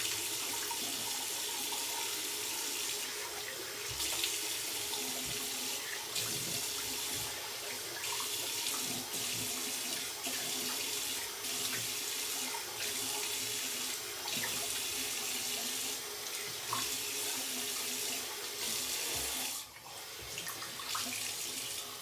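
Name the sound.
tap water running, rinsing off after shaving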